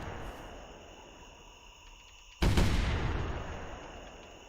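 A single loud gunshot in the hunting video game theHunter: Primal, a sudden blast with a decaying tail that cuts through a quiet background of insect-like ambience.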